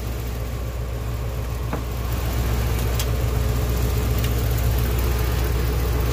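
A Detroit Diesel engine runs in a Chevy truck, a loud steady low rumble with even idle pulses, its level rising slightly partway through, heard up close and alone.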